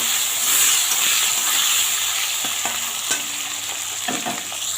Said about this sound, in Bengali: আলু আর কচুগুলো কেটে রেখেছিলাম ওই দিয়ে দিলাম। একটু ভালো করে ভেজে নেব।